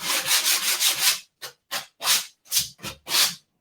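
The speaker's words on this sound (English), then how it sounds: "Just a little bit of sandpaper just to smooth off the edges." Sandpaper rubs back and forth on the edges of a wooden shelf in brisk, rhythmic strokes, close and clear, with short pauses between passes.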